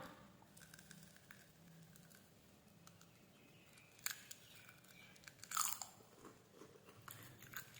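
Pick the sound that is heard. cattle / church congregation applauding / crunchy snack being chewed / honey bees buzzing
crunchy snack being chewed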